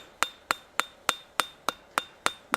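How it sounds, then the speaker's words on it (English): A cross peen hammer strikes hot forged steel nine times in an even, quick rhythm, each blow a sharp ringing clang, texturing the edges of a forged snowflake, close and clear with no voices. "We're going to go ahead and just use a little cross peen texture, fanning out from the sides"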